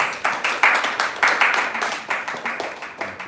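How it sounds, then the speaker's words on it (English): A small audience at a poetry reading gives a round of applause, sharp individual hand claps in a lively, uneven patter that stays steady throughout. "So everyone please give him a big round of applause."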